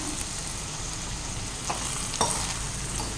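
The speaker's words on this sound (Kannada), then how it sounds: "ಇದ್ರ ಜೊತೆಗೆ ನಾನೀಗ ಹುರಿದಿರೋ 1 ಲೋಟ ರವೆನ ಸೇರಿಸ್ತಾ ಇದ್ದೀನಿ." Roasted semolina is stirred into brinjal in a pan for vangibath upma, heard as a continuous soft sizzle with a few faint scrapes of the spoon, close and alone.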